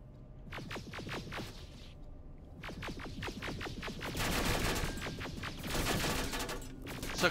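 Video game gunfire from Terminator Resistance: rapid bursts of automatic shots in quick repeated volleys, with short pauses between bursts and a denser, louder stretch toward the end.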